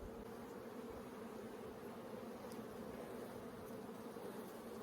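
Honeybees buzz steadily around a brood and honey frame lifted from a backyard hive, a dense continuous drone at close range with no talk over it.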